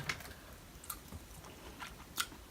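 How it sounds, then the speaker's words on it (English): Someone chewing shrimp sautéed in butter and olive oil, soft close mouth sounds with a few small bites and squishes, quiet and without talk. "Let me taste my shrimp."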